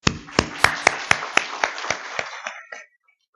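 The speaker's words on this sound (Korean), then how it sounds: "이곳에 함께 하신 하나님 앞에 우리 영광의 박수를 올려드리겠습니다." A church congregation at a Sunday morning service claps together in a steady unison rhythm, about eleven sharp beats in a row before stopping abruptly into silence.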